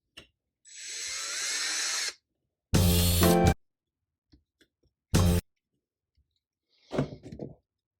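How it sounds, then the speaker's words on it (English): A power drill whirs in several short bursts separated by silences while drilling a hole during assembly of a Nerf springer musket, followed by a few light clicks and handling sounds close by. "we're going to also drill that top hole"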